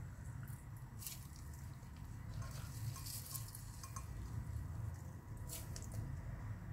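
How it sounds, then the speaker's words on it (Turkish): Grated potato squeezed by hand through a fine strainer, giving a steady wet dripping and trickling of juice with soft squishing, close and continuous, with no talking. "Gördüğünüz gibi çok kolay bir şekilde patatesin suyu çıkıyor."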